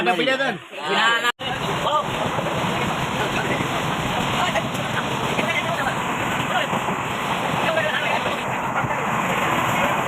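A moving passenger train at night, heard from inside the carriage: a constant loud rumble and clatter of the wheels, with a brief voice at the very start.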